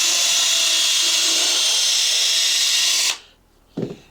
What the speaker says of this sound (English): So I've got my drill here.